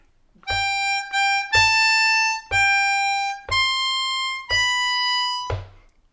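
A harmonica in C plays a slow opening line of Happy Birthday, about six sustained notes starting on a 6 blow, mixing blow and draw tones, with short breaks between notes and no talking.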